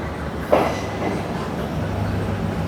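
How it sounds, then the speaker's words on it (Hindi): A train arriving at a busy Colombo station platform, a loud steady rumble with a brief sharper burst early on, heard close by from the platform. "प्लेटफॉर्म नंबर 5 पर जाने के लिए पेडेस्ट्रियन ब्रिज। एक ट्रेन आ रही है।"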